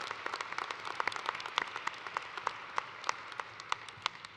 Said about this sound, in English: let's just give a round of applause for Dr. Topp as he moves on in his career